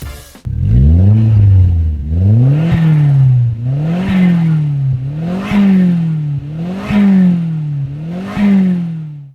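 Loud close car engine revving through an HKS 2.5-inch full-system exhaust, with repeated throttle blips rising and falling about six times in a steady rhythm, a deep exhaust note with no talk.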